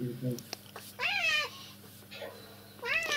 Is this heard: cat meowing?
yes